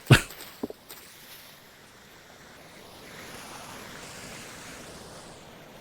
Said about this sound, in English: this is just the ocean